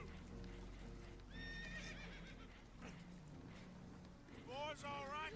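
Spooked horses whinny and neigh aboard a leaking boat in Red Dead Redemption 2, two shrill bursts over rumbling water, hoofbeats and game noise, with voices talking underneath.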